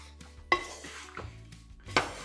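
Flattened rice (atukulu) being slowly stirred in a pot, giving a few soft scraping clinks of a spoon against the vessel, close and fairly quiet with gaps between strokes.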